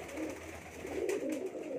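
Pigeons, including a Teddy pigeon, coo steadily in low, soft rolling phrases on a rooftop loft, near and continuous with no talk.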